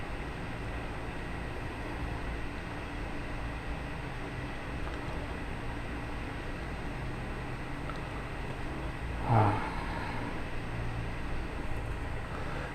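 The cooling fan of a GTX 280 graphics card runs at 75 percent in a PC, giving a steady, loud, broadband whoosh like a jet turbine. It holds constant throughout, with one brief knock near the end.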